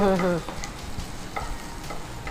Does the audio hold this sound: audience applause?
no